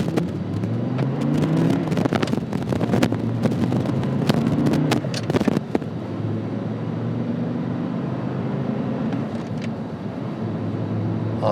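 A black Audi R8 supercar pulls away in first gear, its engine note rising strongly under acceleration for several seconds before settling into a steadier cruising drone with some wind rush, heard from inside the car.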